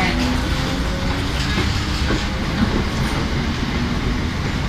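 A British Rail Class 321 train rumbles at a platform at Stratford, London, a steady loud mechanical drone with a faint clatter, no voices standing out.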